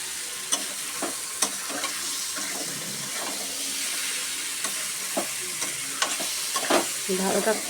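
Potatoes sizzle in a pan as they are stirred and sautéed, a close steady frying hiss punctuated by sharp scraping strokes and clinks of the spoon, with no voices.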